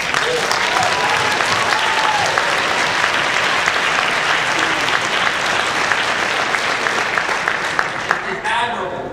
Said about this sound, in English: Let's give a round of applause to Michael